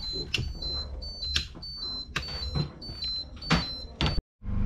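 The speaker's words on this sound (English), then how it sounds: "Engine voltage warning." A boat's engine voltage warning alarm, a high electronic beep repeating in short regular bursts over knocking and clattering in the engine space, cutting off abruptly near the end.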